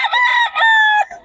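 A rooster from Pangasinan crows loudly and close by, one drawn-out call with a short break partway through, heard alone at a busy early-morning market.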